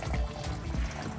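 Coolant drains steadily from the auxiliary radiator hoses of a BMW F3X, a faint, continuous pouring trickle close by, with no talk.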